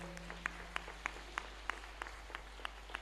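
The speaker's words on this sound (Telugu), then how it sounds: "గట్టిగా చప్పట్లు కొడదాం అందరం." A church congregation at a feast-day service claps in a steady, even rhythm, with about nine distinct hand claps heard fairly faintly over a quiet background hum.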